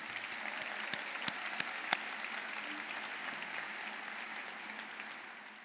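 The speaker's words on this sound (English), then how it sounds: "let's give the Southeast School Step Chain group another round of applause" An audience at a civic event in Lincoln applauds a school step group, with steady clapping from a sizable crowd and a few sharper individual claps standing out before it slowly tapers.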